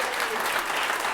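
Audience at an Indy Fringe comedy show applauding, a dense, steady wash of clapping from a close, full room that carries evenly through the short stretch.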